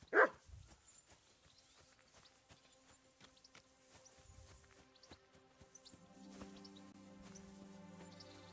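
A dog barks on a farm in the video game Kingdom Come: Deliverance II, one sharp loud bark at the start followed by a few fainter distant yaps, over quiet ambient game sounds and a low musical drone.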